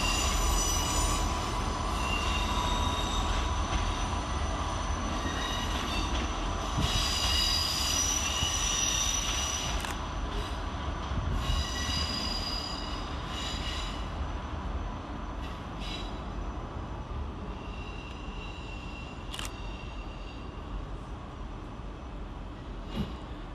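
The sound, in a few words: Class 159 diesel trains 159103 and 159005 departing London Waterloo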